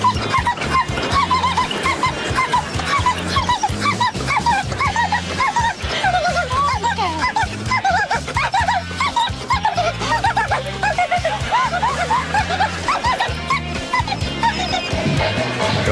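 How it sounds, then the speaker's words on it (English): A dog whimpers and yelps at cows in a busy stretch of whines and short barks, with a few faint animal sounds mixed in, running steadily and close throughout. "Some dogs bark at cows, some dogs whimper at cows."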